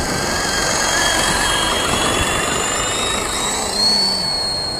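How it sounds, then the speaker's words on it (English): WLtoys V913 RC helicopter flying in a small park, a continuous high whining rotor and motor drone with slight pitch shifts, fairly close and steady throughout. "Love the sound of the helicopter."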